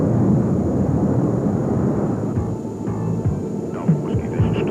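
F-14 Tomcat jet engines starting up, a steady, loud, throbbing drone with faint higher whines layered over the low rumble, running continuously with no voices.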